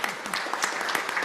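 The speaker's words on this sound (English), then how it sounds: "I think we're supposed to clap." Applause breaks out at an evening school board meeting as honorees, including a coach, are recognized, with dense, steady clapping from a crowd and a bright, crackling texture throughout.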